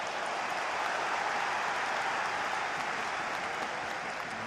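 A packed football stadium crowd at a Liverpool v Fulham League Cup semi-final cheers and applauds in a steady, dense roar that stays loud and unbroken throughout.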